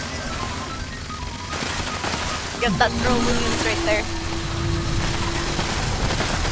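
Gunfire and explosions in the video game Fallout 76, a burst of shots and blasts with a brief crash, heard under a voice talking over game audio.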